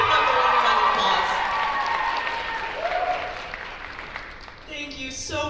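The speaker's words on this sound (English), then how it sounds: "Let's give them a round of applause." Audience applause for pageant contestants at the 2024 Miss Washington County and Miss Greater Zion competition, sustained clapping from a large crowd that slowly thins, with a few cheers and a voice over a loudspeaker.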